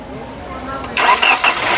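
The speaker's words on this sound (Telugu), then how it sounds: "మళ్ళీ ఒకసారి ఇంజన్ స్టార్ట్ చేయి" A 2017 Hyundai i20 Asta engine cranks briefly and catches, jumping to a loud steady running roar partway through, with faint voices before it.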